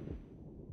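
A muffled, low throbbing rumble stands in for the stunned, deafened state after an explosion in Wanted: Dead; it is brief and dull, with the highs cut away.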